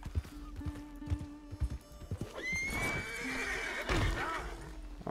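A horse in the video game Red Dead Redemption 2 lets out a drawn-out whinny, preceded by several clip-clop hoof knocks and thuds, moderately close against a quiet game background.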